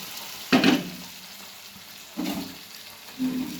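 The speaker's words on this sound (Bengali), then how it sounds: "এবারে এটাকে ভালো করে নেড়ে নেব" Boiled tarka lentils are stirred in a frying pan, with three short scraping, sizzling bursts of the spoon against the pan separated by quiet gaps.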